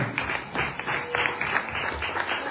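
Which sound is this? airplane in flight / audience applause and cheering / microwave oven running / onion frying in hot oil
audience applause and cheering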